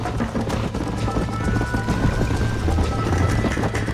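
Hooves pound in a fast galloping rhythm over a low rumbling background, loud and continuous throughout, from a horse in the video game Red Dead Redemption.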